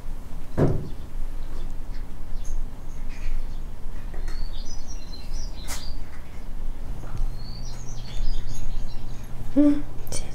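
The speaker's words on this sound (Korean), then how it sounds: "새소리 엄청나네." Birds sing outdoors in the morning: scattered high chirps and short warbling phrases come from a distance over a low background hum, with one dull knock near the start.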